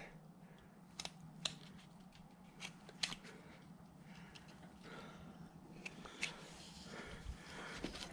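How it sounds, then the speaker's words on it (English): A knife slices and scrapes into sculpting material on a mountain man bust, giving faint, close crisp cuts and several sharp snips spread over a quiet background. "So I'll go in with a knife like this."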